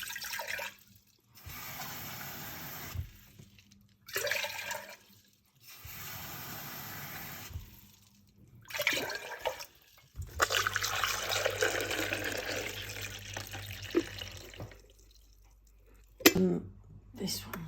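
Water being fetched for a coffee machine, poured in several separate bursts of running, splashing liquid with silent gaps between, followed by a longer filling stretch; a voice speaks at points.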